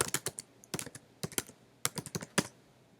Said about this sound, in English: So you type what you hear.